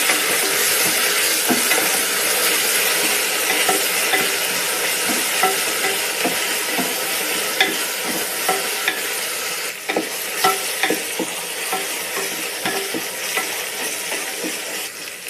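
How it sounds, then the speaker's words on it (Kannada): Ginger garlic paste fries loudly in a pan for mushroom pulao, a continuous close sizzle with frequent scraping stirs and occasional light clinks of the spoon. "ಒಂದು ಸ್ಪೂನು ಜಿಂಜರ್ ಗಾರ್ಲಿಕ್ ಪೇಸ್ಟ್ ಹಾಕ್ತಾ ಇದ್ದೀನಿ ಹಸಿ ಸ್ಮೆಲ್ ಹೋಗೋವರೆಗೂ ಇದನ್ನು ಫ್ರೈ ಮಾಡ್ಕೊಳ್ಳಿ"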